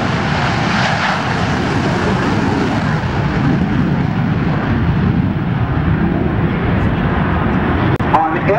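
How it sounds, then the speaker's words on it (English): An F/A-18C fighter jet throttles up after a touch-and-go on an aircraft carrier deck, a loud sustained engine roar close by that holds steady for several seconds. "Throttle goes forward and up he goes,"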